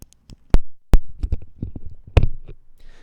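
A microphone's polar-pattern switch being flipped, giving a few sharp, close clicks and small handling knocks over about three seconds, with no speech.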